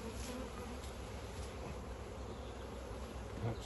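Honeybees buzz steadily around an open apiary hive during an inspection, a continuous close drone with individual bees passing near, with no talking.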